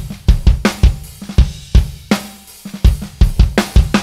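A drum kit's kick and snare play back alone in a mix session, loud punchy kicks and sharp snare cracks in a steady groove.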